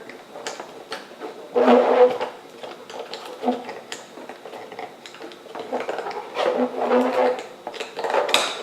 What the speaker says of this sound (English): you stir in the cauldron with this bone. You can kind of hear that moving in there